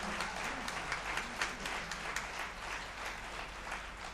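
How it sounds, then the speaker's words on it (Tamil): Hall audience at a Tamil debate event clapping for a speaker, a moderate, fairly distant patter of many hands with individual claps standing out in a loose rhythm. "அதுக்கே இன்னொரு கைத்தட்டு கொடுங்க அந்த மனுஷனுக்கு"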